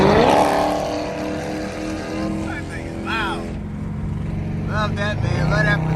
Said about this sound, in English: Gotta hear that Chrysler go by real quick.